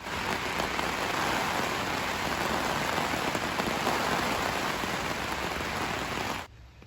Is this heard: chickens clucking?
no